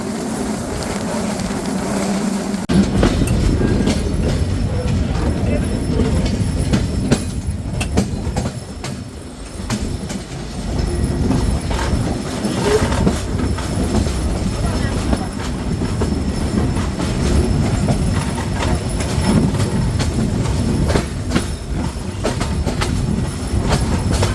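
Shimanta Express train 748 runs toward Khulna at night with a loud, steady rumble and rattle of wagons that carries on throughout, broken by occasional wheel clatter and squeal, with no talk over it.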